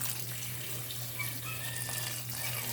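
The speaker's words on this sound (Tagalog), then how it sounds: "So, lagyan natin ng tubig." Water poured into a pan of fresh pancit noodles while cooking pancit guisado, a steady splashing flow, close and continuous with a low hum beneath.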